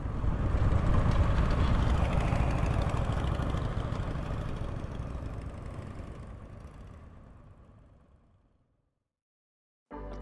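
Over 90 Royal Enfield motorcycle engines rumble steadily at idle on a group ride in Guadalajara, loud at first, then gradually fade away into silence before a brief return at the very end.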